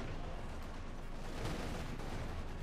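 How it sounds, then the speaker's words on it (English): Explosions and gunfire pound a T-54 tank in the Company of Heroes 2 battle game, a faint, dense rumble of blasts and crackling shots running continuously with a slightly louder burst midway. "these explosions will be into the T-54 from 6"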